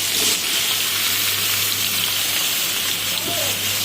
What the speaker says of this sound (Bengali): পেঁয়াজ লাল হয়ে গিয়েছে, এখন আমি ধুয়ে রাখা সবজি দিয়ে দিলাম।